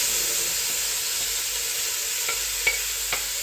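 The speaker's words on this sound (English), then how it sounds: "And it's sizzling very nicely." Chicken stew ingredients sizzle in a pot with a steady, soft hiss, broken near the end by a few faint stirring clicks, close by and alone.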